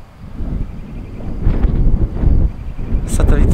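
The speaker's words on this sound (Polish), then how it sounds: "Jest trochę wietrznie." Gusty mountain wind buffets the microphone during a DJI Avata 2 drone flight, a steady low roar that swells and eases, loud and close throughout.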